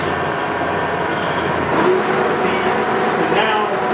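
A Monarch lathe runs with the power feed engaged, giving a steady mechanical hum and whir of gears and lead screw that holds even throughout at moderate level.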